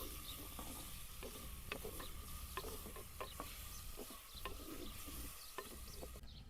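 Onions stirred into a gunda curry in a pan make a steady sizzle, with repeated sharp scraping strokes of a spoon at an even rhythm, close and clear.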